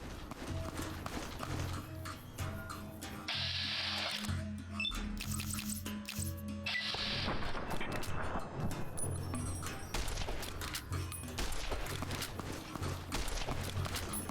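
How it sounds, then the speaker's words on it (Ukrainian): Busy Fallout: New Vegas game audio with bursts of gunfire-like cracks and clatter, a dense mix of effects and music beds running throughout. "О, там стрілянина."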